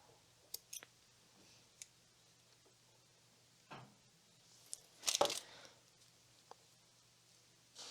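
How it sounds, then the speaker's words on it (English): Scissors snip the thread tail of a bead loom bracelet, a few faint clicks followed by a short, sharper cutting crunch, close and quiet, with no voices. "I'm just going to cut this"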